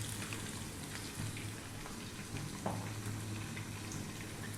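Onion cooking over high heat in oil in a pot for aromatic Arab rice makes a soft, even sizzle with faint bubbling and a few small taps, quiet and steady throughout, no speech.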